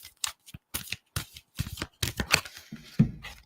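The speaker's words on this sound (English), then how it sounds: "I have to shuffle all these cards." A deck of oracle cards being shuffled by hand, a series of quick riffling bursts and soft slaps, close and fairly quiet.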